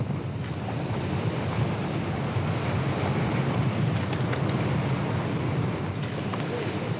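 Strong, icy wind in the Pyrenees mountains at Gavarnie roars steadily against the microphone, a constant broadband rush with gusty buffeting and no pauses.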